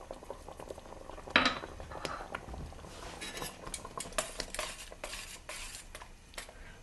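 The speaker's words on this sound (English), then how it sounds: "And give it a stir, and we're ready to serve." Spaghetti sauce simmers in a pan while a spoon stirs it, with a soft bubbling under a sharp metallic clink of the utensil against the pan and some scraping.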